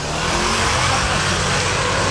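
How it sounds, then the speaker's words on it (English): A BMW Z4 drives past on a wet Monaco street, its engine noise blending with a constant broadband hiss of tyres on rain-soaked road, loud and close throughout. "I've actually found a Z4."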